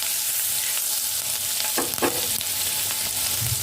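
Chopped garlic and green chillies sizzle in a pan for creamy homemade pasta, a steady close frying hiss with a couple of brief stirring scrapes midway.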